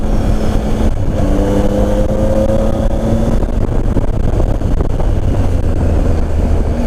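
A 2018 Triumph Tiger 800 XRx motorcycle engine drones and revs while riding, its exhaust note rising briefly then settling, with wind buffeting the microphone throughout.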